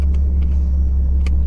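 A Jeep engine sits at low idle, giving a loud, steady low rumble close by, with a couple of faint higher clicks over the constant drone.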